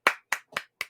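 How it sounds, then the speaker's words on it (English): Four sharp hand claps ring out in an even rhythm, loud and close with a short decay after each, with no talk around them. "Hopefully that clap is showing up"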